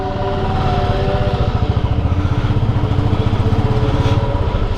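A motorcycle engine runs steadily at idle and low revs, loud and close, with a continuous throbbing pulse and no talk over it.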